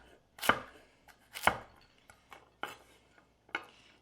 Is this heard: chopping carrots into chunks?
yes